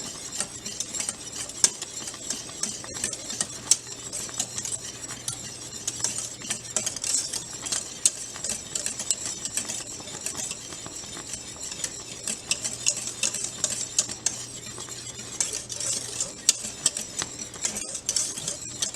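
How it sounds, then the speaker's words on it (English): Chocolate cherry cake mixture is stirred constantly in a pan over medium heat, a steady close scraping and faint bubbling that runs throughout without talk. "Now we're going to stir it constantly."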